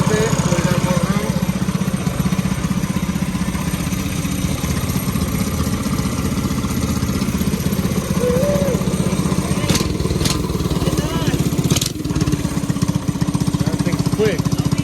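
Homemade minibike with a big motor running close by, a loud steady buzzing engine drone with a few brief clicks and knocks over it.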